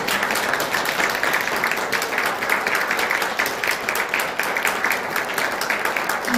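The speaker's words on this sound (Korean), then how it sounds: "성도 여러분은 이 아기들에게 따뜻한 사랑과 축하를 담아 박수로 환영하여 주시기 바랍니다" Church congregation applauding to welcome newly baptized babies at an infant baptism service, a steady, dense wash of clapping from many hands that holds throughout, fairly loud and even, with no pauses.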